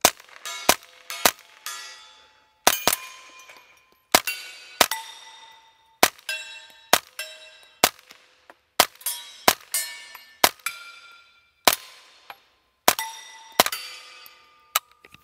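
A Ruger PC Carbine firing at steel dueling tree paddle targets outdoors, each shot a sharp crack followed by a bright ringing clang, about twenty impacts in uneven bursts across the string.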